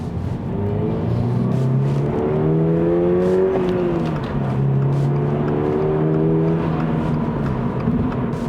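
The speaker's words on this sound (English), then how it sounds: "You can just hear that little bit of a drumming from the wheels." A Toyota GR86 GTS cruising at about 80, with steady tyre and road roar and a faint low drumming from the wheels beneath a continuous engine hum; the sound is even and sustained, with no talk.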